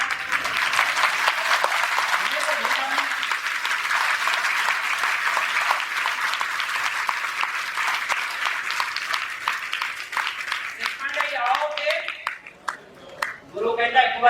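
A sermon audience in a Punjab village gives long, sustained applause that holds steady for about ten seconds, then thins and breaks up as a voice starts speaking near the end.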